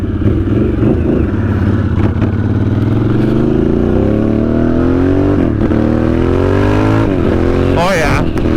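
A motorcycle in sport mode accelerates hard, the engine pitch climbing steadily through a long pull with a shift near the end, loud and close with wind noise.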